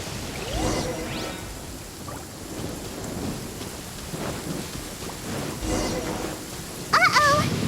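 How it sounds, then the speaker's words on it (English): Lightning storm in the Genshin Impact video game, steady rain hiss with rolling thunder rumbles and whooshing sweeps, closing with a short high chirping voice. "Uh-oh! Lightning storm!"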